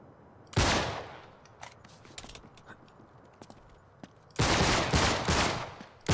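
Video game gunfire in Uncharted 3: Drake's Deception, two loud sustained bursts of rapid automatic fire separated by scattered single shots, with no one talking.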